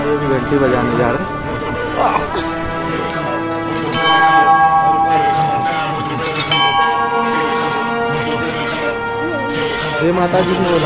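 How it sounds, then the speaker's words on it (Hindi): A bell rings repeatedly with sustained metallic tones at Shirdi, mixed with voices and ambient commotion throughout. "घंटी बजाने जा रहे"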